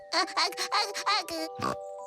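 Cartoon baby piglet giving a run of five or six short, close oinks and squeals, followed by a brief bright jingle at the end.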